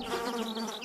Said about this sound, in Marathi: कुठून तरी एक माशी उडत आली आणि सिंहाच्या डोक्यावर गुणगुणू लागली